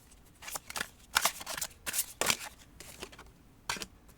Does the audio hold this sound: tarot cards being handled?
yes